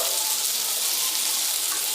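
Spice paste with cumin powder fries in a pan for a hilsa and brinjal curry, giving a steady, loud, close hiss and sizzle throughout with no talking.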